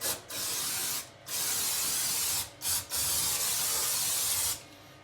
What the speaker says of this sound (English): So give it a spray around again.